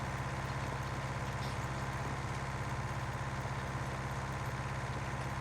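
A tractor engine in the video game Farming Simulator 19 idles in a steady, low, throbbing rumble that holds constant throughout, with no other sounds.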